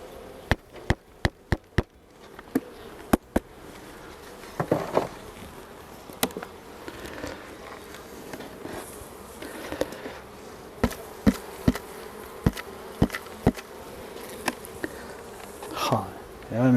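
Honey bees hum faintly around an opened hive during a spring inspection, with sharp clicks and taps of frames and hive tools scattered throughout and brief rustling handling noise.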